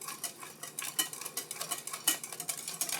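Vanilla being stirred into banana bread batter in a bowl, a run of close, quick scraping and clinking strokes with a steady uneven rhythm and no talk.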